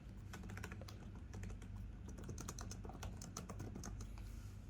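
Rapid, clicky keystrokes on the keyboard of a Microsoft Surface Laptop 3, close and crisp in an irregular run of taps with no talking.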